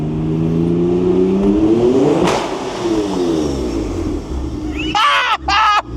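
A twin-turbo Acura NSX accelerates hard, its engine note rising through gears in loud sweeping pulls, followed near the end by sharp, whistling turbo flutter and blow-off bursts.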